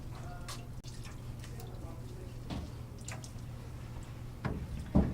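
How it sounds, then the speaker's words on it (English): Water squeezed from a wet cotton cloth being wrung out, with soft drips and squishy wet trickles over a steady low hum, and a few brief splashy bursts near the end. "I'm just kind of wringing things out. Squeezing the water down."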